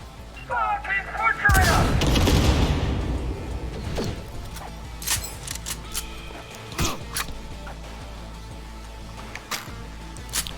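Sniper rifle fire in Cyberpunk 2077: one heavy, booming blast with a long rumbling tail, then several lighter sharp cracks and impacts scattered through a busy game soundscape, with speech heard in places.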